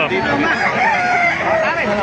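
Multiple roosters crow loudly over one another at a chicken market in Baliuag, overlapping calls filling the space amid a busy background of clucking birds.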